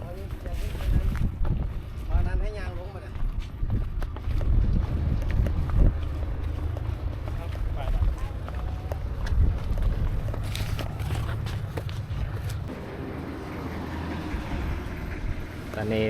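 Steady low rumble of a ferry boat crossing a river near Chiang Khan, with wind buffeting the microphone throughout and occasional faint voices in the background.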